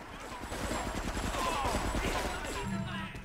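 Rapid gunfire in the GTA 3 video game, a dense burst of shots running steadily for a few seconds at moderate level.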